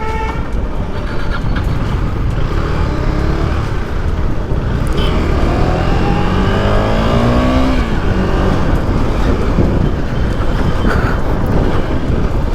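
A KTM Duke 250 BS4 motorcycle engine on a test ride, a loud continuous roar that rises in pitch through the gears, steady and close throughout.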